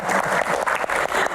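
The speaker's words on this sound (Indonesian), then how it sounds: "Tepuk tangan." A Q&A session audience claps in short rhythmic waves, about four swells of fairly close clapping in quick succession.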